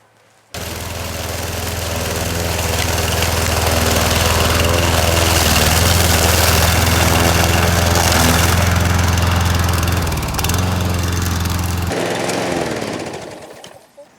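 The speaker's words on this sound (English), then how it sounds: "what I'm going to do is use the mower" A lawn mower runs continuously over fallen leaves, sucking them up and chopping them; the engine drone stays loud and steady from start to finish, with a brief dip near the end.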